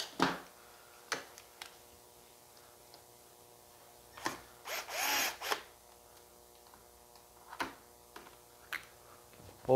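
A screw gun drives screws while a ceiling fan light kit is installed, giving several short, sharp bursts of whirring and clicking spread apart by quiet gaps, with a longer run in the middle, fairly close and moderately loud.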